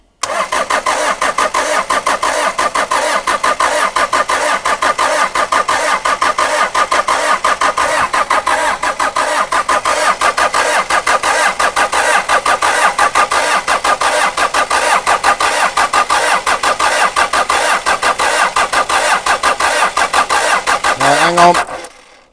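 Pickup truck engine cranking steadily after glow-plug heating, a loud, even, rhythmic churn that runs for about twenty seconds and then briefly catches and rises in pitch near the end before cutting off.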